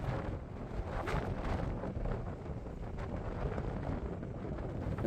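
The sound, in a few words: wind on a hilltop channeled by mountains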